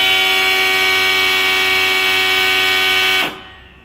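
A BEST FOGGER 150 mosquito fogging machine runs with a steady, loud, high-pitched pulsing drone for about three seconds, then cuts off abruptly into silence.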